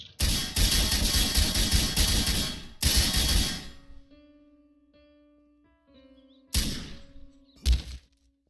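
Rapid bursts of gunfire in a video game, loud and dense, stopping and restarting across several seconds with quieter tonal game sounds in the gaps.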